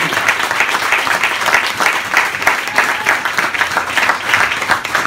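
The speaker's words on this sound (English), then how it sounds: "Let's give a big round of applause." Sustained applause from an audience at a literary reading in a bar, dense steady clapping filling the room for several seconds at a fairly loud, even level.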